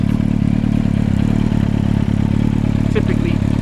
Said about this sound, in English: I'll just take you around the other side so you can hear the Akrapovic exhaust.